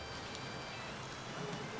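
Rain falls in the city-building game Patron as a steady, soft hiss of drops on surfaces. It stays faint and even throughout and plays alone.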